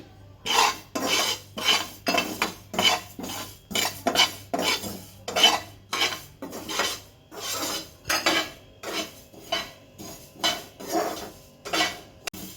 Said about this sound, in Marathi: आता बडीशॉप आहे अर्धी वाटी ती पण परतून घेते